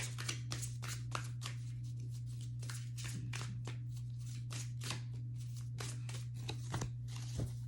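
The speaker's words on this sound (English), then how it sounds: "we're going to go ahead and get an activation card here" Oracle activation cards shuffled by hand, a series of close, quick riffles and slaps over a steady low electrical hum.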